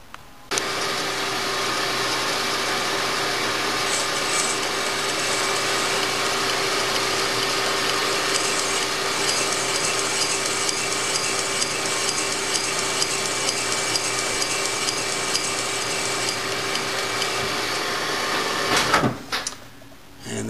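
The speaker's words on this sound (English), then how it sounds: "we have an LS7 connecting rod on the lathe, and we're going to cut a chamfer on here" A lathe steadily cuts a chamfer on an LS7 connecting rod, with a continuous loud machining whine and hum lasting nearly twenty seconds before briefly cutting off with a clunk near the end.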